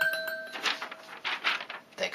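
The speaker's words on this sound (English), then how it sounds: "There goes my doorbell." A doorbell chimes at the start with bright ringing tones, followed by a muffled indoor voice and shuffling.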